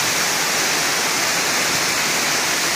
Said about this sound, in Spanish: Esta hermosa cascada donde hace 30 años bañábamos con agua cristalina